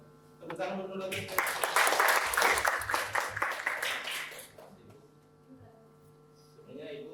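A group of teachers at a training session breaks into a short burst of brisk clapping that rises, holds for a few seconds and fades, with a steady electrical hum underneath.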